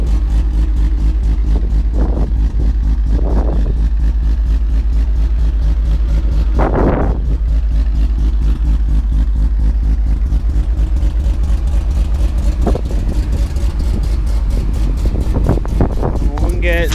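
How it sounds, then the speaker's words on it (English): A Mazda RX7 engine fitted with a new exhaust runs on a dyno, giving a steady, fairly quiet low mechanical drone throughout, with people talking over it at times. "Sounds relatively quiet when it's new exhaust"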